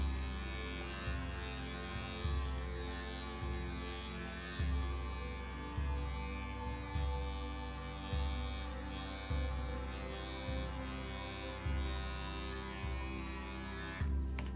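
Electric dog clippers buzz steadily while shaving a dog's shoulder and upper forearm during a field trim, close and continuous, with a low motor drone that rises and dips in a regular rhythm of strokes and no talk.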